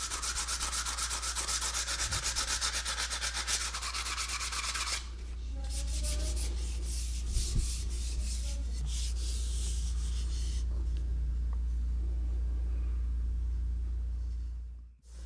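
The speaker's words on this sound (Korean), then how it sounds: "대나무에 튀어나온 마디는 끌로 깨끗하게 긁고 사포로 문질러 부드럽게 만든다" Rapid back-and-forth rubbing of sandpaper on bamboo, smoothing the nodes for a traditional Korean instrument, close and rhythmic, then slower, quieter scraping over a low background rumble.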